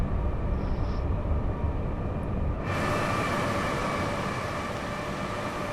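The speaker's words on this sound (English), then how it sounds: "we're overtaking a freight train through Wembley" A freight train being overtaken near Wembley in Train Sim World 5, heard from a passing Class 350 passenger train: a steady, loud rumbling roar of rolling wheels that abruptly grows brighter and fuller as the freight wagons rush alongside.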